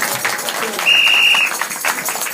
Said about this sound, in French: L'église, applaudissez fortement pour Jésus-Christ.